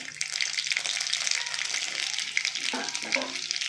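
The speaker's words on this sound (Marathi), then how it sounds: "मोहरी मस्त तडतडली" Mustard seeds crackle and pop in hot oil during tempering, a continuous close hiss with sharp little snaps throughout, fairly quiet and with no voices.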